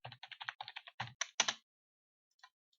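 Computer keyboard typed on while writing Lisp and Userform code: a rapid run of crisp, close keystrokes for about a second and a half, then silence broken by a couple of faint, isolated taps.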